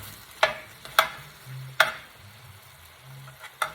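Chicken adobo with vinegar, soy sauce, pepper and bay leaves simmers in a pan under a soft, steady sizzle, broken by four or five sharp spoon clinks against the pan as it is stirred.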